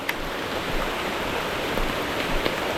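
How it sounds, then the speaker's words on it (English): Steady monsoon rain during a motorcycle ride, a continuous even hiss of falling water with faint patters and no clear voices. "It's just not stopping to rain."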